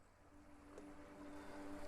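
Ocean waves in the game A Wolf in Autumn roll in as a soft, steady wash of surf, faint and distant, slowly swelling with no speech over it.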